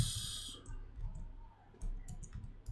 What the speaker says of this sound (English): I'm just going to type Steve